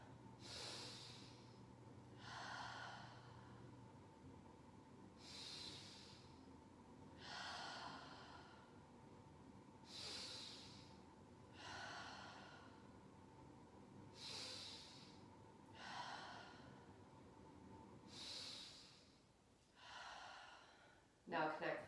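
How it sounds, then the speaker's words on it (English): Slow, deep breaths in and out during a yoga breathing exercise, about five full rounds in a steady rhythm, each inhale and exhale clearly audible, close and soft with a faint steady hum behind. "5 full breaths in and out"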